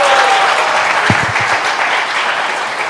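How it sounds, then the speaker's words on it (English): A conference audience claps steadily for health-innovation panelists, a dense, even wash of applause from a sizable crowd that holds loud through the whole stretch. "Can everyone give a round of applause for our fantastic panelists?"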